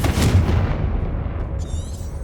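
A Confringo fire spell from Hogwarts Legacy bursts in a heavy, close explosion with a booming low-end blast that rumbles and decays over about two seconds, followed by a faint high shimmer.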